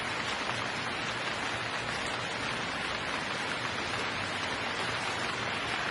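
Rain falls in the Gemini Rue video game as a constant, even wash of broadband hiss, dense and unbroken throughout, with no voices.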